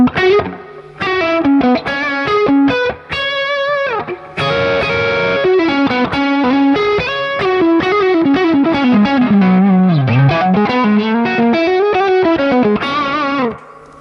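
An electric guitar played through the overdriven drive channel of a Mesa Boogie Nomad 45 amp, distorted notes and chords ringing out with a light reverb tail, no talking.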